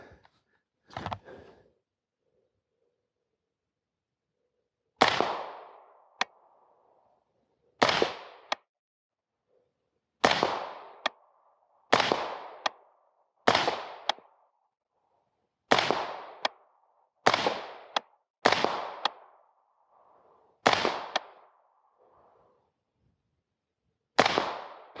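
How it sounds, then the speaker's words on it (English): Suppressed AR-15 rifle shots ring out one at a time, about a dozen sharp muffled cracks spaced a second or more apart, each followed by a brief echoing tail, with no talking. "I'm gonna do a little more shooting"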